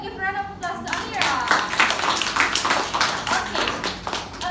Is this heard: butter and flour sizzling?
no